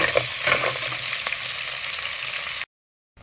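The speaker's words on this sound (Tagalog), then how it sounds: "Kumukulo na" Seafood simmering in real coconut milk with added water in a cooking pot outdoors, a steady close bubbling and sizzling boil that runs on alone, then cuts to silence near the end.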